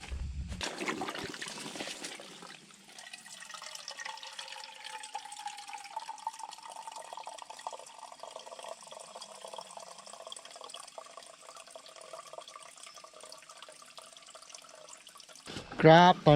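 Water scooped from a clear forest stream: a steady trickling flow with some splashing and sloshing near the start, continuing for a long stretch, with a brief loud clatter at the very end.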